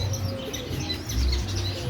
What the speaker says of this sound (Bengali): ঘুঘু পাখি, ককাটেল পাখি, জাবা পাখি।